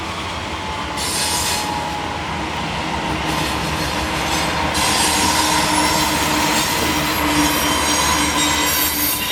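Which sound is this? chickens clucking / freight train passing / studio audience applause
freight train passing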